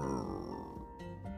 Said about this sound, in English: If you heard that kind of growling sound, what would you think it was?